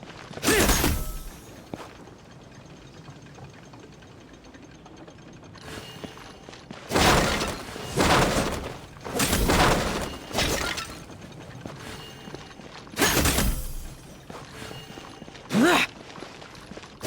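Wooden boxes smashed in Genshin Impact: several loud, sharp crashing bursts with splintering cracks, spaced irregularly across quieter stretches, some in quick clusters.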